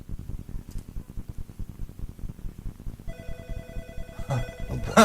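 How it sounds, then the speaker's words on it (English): A phone ringtone starts partway through and rings steadily over a quick, rhythmic pattering. "I hear ringing."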